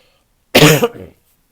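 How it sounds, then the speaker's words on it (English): A single close, harsh cough bursts out, then trails off with a short rough throat sound before silence. "Sorry about those coughs."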